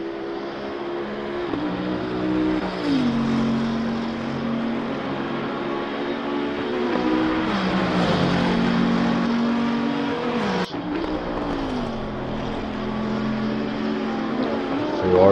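GT race cars from Ferrari, Bentley, Porsche and Audi lapping Bathurst in a racing game, a steady loud engine drone with rising and falling revs as cars pass, with faint commentary underneath.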